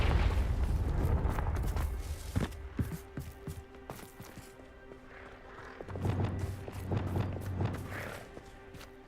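Confringo fire spell blasts in Hogwarts Legacy, several booming impacts and crashes spread across the stretch with quieter footsteps and rumbles between them, moderately loud and heard without any voices.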